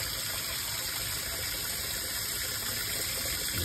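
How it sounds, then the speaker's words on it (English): Hot water pours steadily into a bowl containing dish soap, a continuous close rushing gush that fills the whole span without pause, with no talking heard. "And you fill the bowl up."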